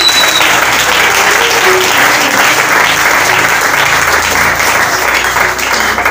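A church congregation claps and cheers loudly and without a break, a thick, continuous roar of applause from many people in a worship hall.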